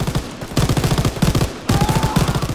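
Mounted MG in Call of Duty WWII hammering out rapid bursts, loud and close, with two short pauses between sustained strings of shots and a faint tonal whine in the last stretch.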